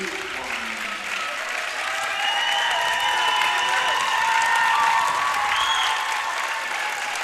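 Crowd at a high school boys basketball sectional quarterfinal cheering and applauding a made second free throw, a steady roar of claps and shouts that swells midway and stays loud throughout.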